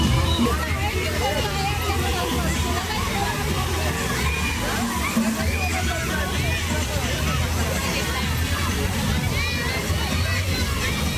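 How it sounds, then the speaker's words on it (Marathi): Water gushing and splashing at an Anand Sagar water park after the flow is switched back on, a steady wash of spray and sloshing under a loud crowd babble with children's voices throughout. "पाणी चालू केलं ना."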